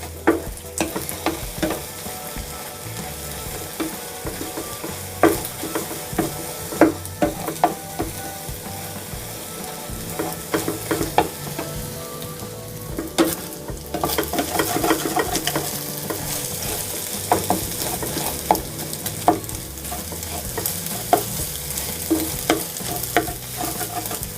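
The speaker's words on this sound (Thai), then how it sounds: "เราก็ผัดไข่ได้เลยค่ะ ผัดไข่ให้สุกนะคะ" Eggs stir-fried in a pan for a Thai canned-fish omelette dish, a steady close sizzle broken by frequent sharp scrapes and clacks of the spatula against the pan, with no talking.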